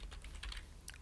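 Quick, faint clicking of computer keyboard keys in a short burst of several keystrokes, with no talking.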